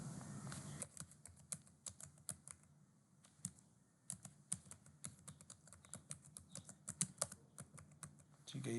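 Fingers tap on a computer keyboard while form details are entered, giving soft, close, irregular keystrokes in quick runs with a brief pause partway through.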